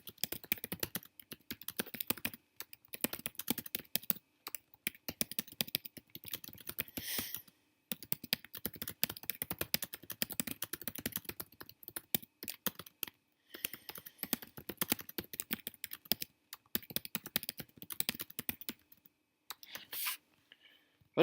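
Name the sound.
typing a description on a computer keyboard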